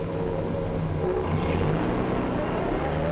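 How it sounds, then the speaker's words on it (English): A 1946 bus engine drones steadily and loud with low harmonic rumble, rising slightly as the driver shifts gears and pulls away, with no pauses throughout. "He shifts gears."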